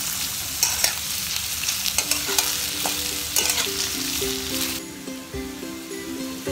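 Potato pieces fry in hot oil with a loud, dense, close-up sizzle and crackle, punctuated by light taps from stirring. The hiss eases slightly toward the end while a faint steady hum lingers underneath.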